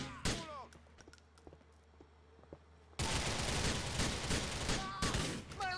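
Gunfire in Grand Theft Auto IV: scattered single shots and small clicks over a quiet stretch, then a sudden dense, loud barrage of rapid shots that continues to the end.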